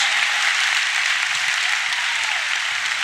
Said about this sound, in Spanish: Dale un aplauso a la voluntad de Dios.